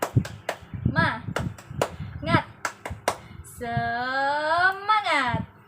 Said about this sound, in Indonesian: Kita tepuk semangat terlebih dahulu ya.